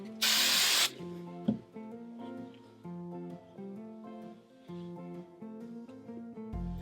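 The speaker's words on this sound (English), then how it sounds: "I'm going to take sections at the ends and brush them and hairspray them" A short, loud hiss of hairspray hits a Spirit Halloween wig, one steady burst lasting under a second at close range, over quiet background music, with another spray starting at the end.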